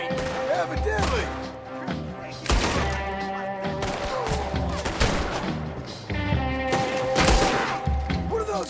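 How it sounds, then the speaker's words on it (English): Frequent gunshots and heavy impacts in Red Dead Redemption 2, loud booming reports scattered through a tense orchestral score, punctuated by crashes and thuds. "What are those guns they have?"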